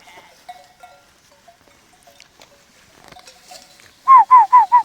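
After a quiet stretch with faint distant sounds, a sheep lets out a loud, close bleat that wavers in four quick pulses at the end.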